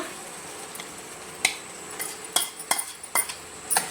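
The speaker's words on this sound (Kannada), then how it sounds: "ಪನ್ನೀರ್ ಹಾಕೊಂಡು ಚೆನ್ನಾಗಿ ಮಿಕ್ಸ್ ಮಾಡಿ" A spoon scrapes and clinks against a pot as paneer is stirred into boiling keema, several sharp metallic taps standing out over a soft background, no voices.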